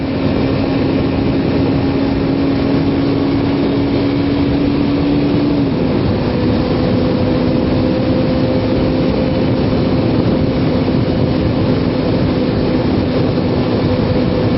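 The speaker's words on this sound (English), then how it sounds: "So I like to be able to hear when the engine starts to die out" A Kawasaki Ninja 250 motorcycle engine idles steadily after a cold start on a December day, holding a constant drone whose pitch steps up slightly about halfway through as the revs rise, with no talking.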